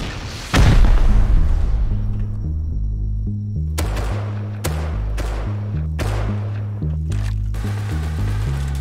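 A gate blown open during a raid in the Rust survival game, heard as a loud, sudden boom with a long rumbling tail, followed by several sharper blasts over a low, steady musical drone.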